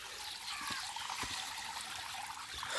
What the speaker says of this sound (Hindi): ये पानी देखे कैसे आ रहा